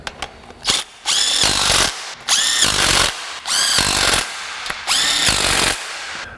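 A pneumatic impact wrench drives studs into aluminum on a 2004 Acura TL 3.2L engine, firing in four loud, close bursts of rapid hammering, each about a second long with short pauses between.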